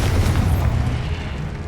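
A Confringo blasting spell goes off in Hogwarts Legacy as a deep, sustained booming explosion with a heavy low rumble that fades slightly over under two seconds.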